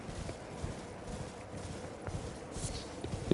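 A horse galloping in Elden Ring, with steady muffled hoofbeats running continuously at close range under a faint wash of ambient game sound.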